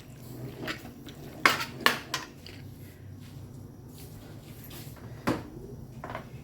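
Pork is stir-fried in a pan with vegetables, giving sharp metallic clanks and scrapes of a utensil against the pan in a few distinct hits over a low background sizzle, heard up close.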